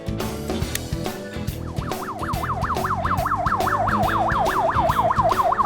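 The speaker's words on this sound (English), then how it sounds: "To turn on the flashing lights and sirens," A police siren wails in fast, rising and falling cycles, starting after a moment and growing steadily louder over a running engine.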